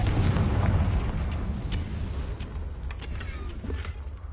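A Confringo spell explosion in Hogwarts Legacy, heard as a loud, deep, rumbling blast that opens the clip and slowly dies away, followed by a few faint crackling pops, with no talk.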